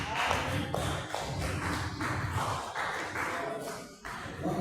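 A church congregation claps along during a worship service, a steady, rhythmic run of hand claps with thumping beats and a loud, crowded feel throughout.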